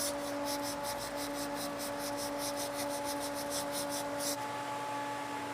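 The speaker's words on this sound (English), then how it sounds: "We've got some 180 grit sandpaper here on this small block." A small sanding block with 180 grit sandpaper rubs a cracked plastic bumper cover in quick, even back-and-forth strokes, close and steady, over a constant hum, then stops near the end.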